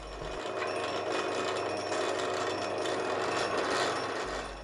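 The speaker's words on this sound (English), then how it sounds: "drill down on those 2 points I've marked with the awl" A power drill whines steadily at high speed for several seconds drilling into wood, close and loud, spinning down at the end.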